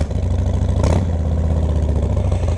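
A 2025 Harley-Davidson Fat Boy with Reinhardt slip-on exhausts idles close by, a loud, steady low rumble with a pulsing beat and one brief throttle blip near the start, with no voices.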